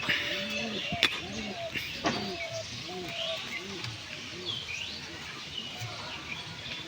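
Close, rhythmic cooing from a Madrasi single pigeon with bound wings, a series of low rolling coos spaced about half a second apart, with a voice speaking faintly behind them.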